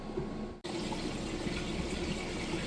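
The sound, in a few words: Maytag Bravos XL washer draining water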